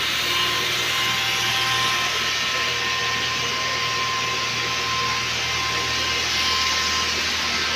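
A rib knitting machine producing 1x1 rib fabric runs with a steady, loud mechanical whir and hum that stays even and continuous throughout, with no pauses.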